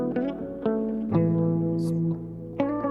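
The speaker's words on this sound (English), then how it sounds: "Then I also have a lead guitar, sounds like this." A lead guitar through a clean amp plays a groovy lofi melody, a handful of plucked, sustained notes with one long held tone in the middle, clear and close with no other instruments.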